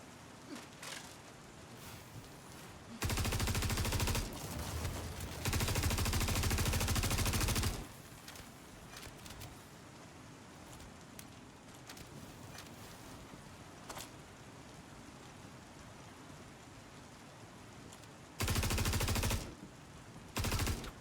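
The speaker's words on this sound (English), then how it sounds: "I hear the gun." Bursts of automatic gunfire in the video game Star Citizen, a few loud sustained volleys of a few seconds each separated by quieter stretches with scattered single shots.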